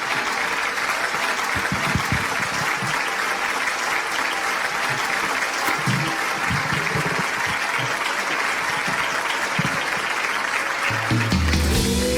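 A studio audience at a televised talent show gives loud, sustained applause for a band, a thick continuous wash of clapping that holds steady throughout, with music starting faintly near the end.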